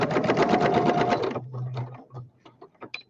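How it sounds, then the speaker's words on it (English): A sewing machine stitches fabric for homemade fabric weights, running loud and steady in a rapid mechanical whir for over a second before stopping, followed by faint handling clicks and rustles. "I'll have to stitch over the edge of that and go back on it."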